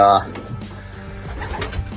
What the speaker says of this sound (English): let's flip this around and check out the birds